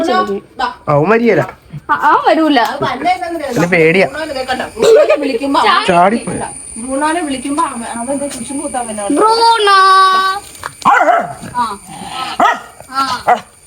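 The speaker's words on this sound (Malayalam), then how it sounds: "ഒരു സ്നേഹമുള്ള പട്ടിയാണ്" A dog barks and yelps now and then while a person talks warmly and almost constantly over it.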